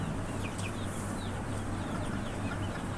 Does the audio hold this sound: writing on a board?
no